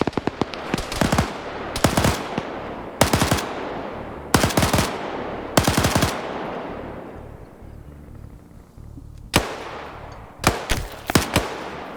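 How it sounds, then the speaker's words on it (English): Bursts of automatic gunfire crack out in an Arma Vietnam PvP match, a video game, coming in loud, closely spaced volleys separated by short pauses, with a lone shot near the end. "Now he's going for the other shooters."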